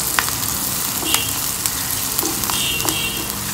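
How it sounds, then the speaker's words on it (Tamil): Onions frying with salt in oil in a pan for a green cauliflower dish give a steady, close sizzle, with a few sharp crackles and spatters popping through it, and no voices. "அப்போ வெங்காயமும் நல்லா வதங்கிக்கிடும்."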